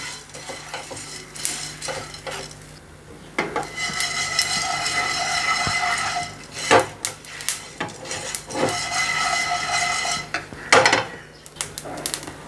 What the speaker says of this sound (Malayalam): ഇതൊന്ന് റോസ്റ്റാക്കി എടുക്കാമേ.